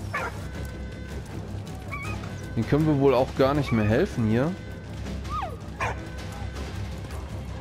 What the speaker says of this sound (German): Schlimm zu sehen, auch wie der Hund hier leidet.